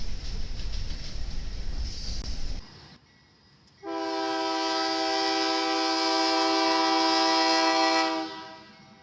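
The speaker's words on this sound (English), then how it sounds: "we caught a special Union Pacific train that is hauling a brand new Siemens train set for Via Rail in Canada" A Union Pacific train hauling a brand-new Siemens train set for Via Rail rumbles past at Blue Island, Illinois, then its horn sounds one long, loud, steady blast before cutting off.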